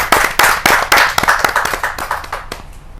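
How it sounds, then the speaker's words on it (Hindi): Audience at a Hindi kavi sammelan poetry gathering clapping for a poet, sharp individual hand claps in an uneven rhythm that thin out and fade over a few seconds. "जोरदार ताली के साथ हम सुनहरे लाल वर्मा जी"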